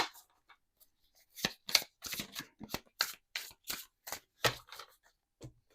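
Cheeky Tarot cards by Danilo Sanino being shuffled by hand, a quick run of crisp riffling flicks in close succession after a quiet start, near and clear with no voices.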